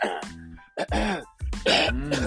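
Someone clears their throat loudly and close by, a few rough, guttural rasps in quick succession.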